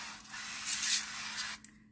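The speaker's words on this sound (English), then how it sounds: "So I'm just going to spray it with the oil again" Cooking oil is sprayed from a can onto broccoli in a home kitchen: a short hissing burst, fairly close, swelling in the middle and ending with a small click.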